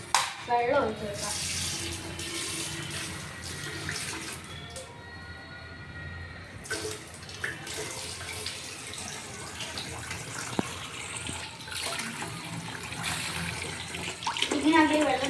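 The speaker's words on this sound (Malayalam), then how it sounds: "വെള്ളം ഒഴിച്ച് കൊടുക്കാം." Water is poured for making noodles, a continuous splashing stream that rises and falls over about fifteen seconds, with faint voices and household noise in the background.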